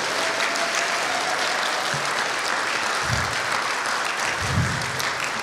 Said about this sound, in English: One more round of applause for Mr.